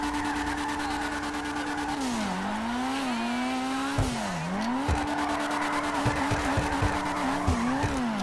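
A tuned RT3000 in GTA V drifts with long, loud tire screeches that rise and fall as the slides change, over a constant engine drone and several short squeals near the end.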